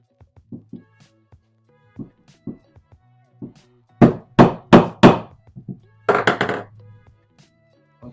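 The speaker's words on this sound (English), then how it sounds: "I'm just taking my hammer," A rubber-faced hammer strikes a hole punch through leather for bar covers: a few light single taps, then four loud close thuds in quick succession, then a heavier cluster of blows.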